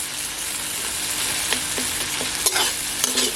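Garlic paste fries for a rajma dal masala as a dense, continuous sizzle, with a few soft taps of a spoon against the pan.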